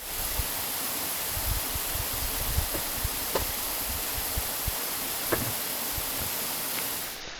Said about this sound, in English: We have emerged from the tunnel to a beautiful waterfall.